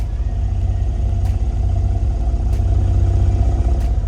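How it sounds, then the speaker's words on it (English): A Subaru STI Type RA with a catless exhaust idles in comfort mode, a steady low rumble with a slight growl and a few faint ticks, close and continuous. "this is how it sounds at idle in comfort mode"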